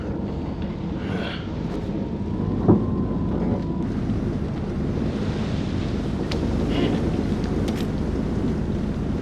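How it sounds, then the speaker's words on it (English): Stormy wind and surf at sea in the video game Man of Medan, a continuous roaring gust and wave wash with a few faint tonal and knocking sounds over it. "Find out how long the storm is gonna last."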